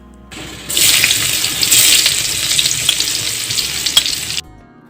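Chopped onion hits hot oil left from frying rohu fish and sizzles loudly and steadily, starting abruptly and cutting off after about four seconds.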